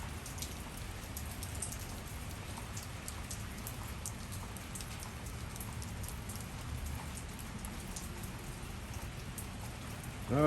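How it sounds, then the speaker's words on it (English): Steady rain falls in Los Angeles, a continuous dense patter of drops on surfaces, moderately loud and unbroken, with no voices. "I got excited when it started raining hard."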